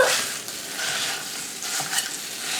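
Italian sausage meat sizzles steadily in a hot pan while it is chopped and stirred, a continuous close frying hiss with soft scraping pulses.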